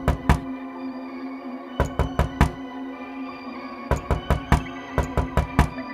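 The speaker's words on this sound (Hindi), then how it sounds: "तभी उनके दरवाजे पर किसी ने जोर से दस्तक दी।" Loud knocking on a door in a village horror scene set on a rainy night comes in three clusters of sharp, hard raps over a steady droning hum.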